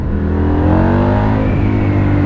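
A loud Husqvarna Nuda 900R motorcycle engine revs up with a steady rising whine, close by and continuous, with no talking.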